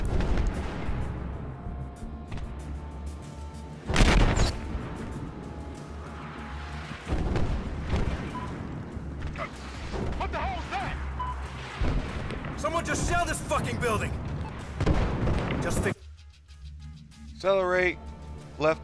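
Heavy tank main cannon blasts boom out in the game Battlefield Hardline, several deep explosive thuds spaced across the clip, amid battle noise and voices talking over the action.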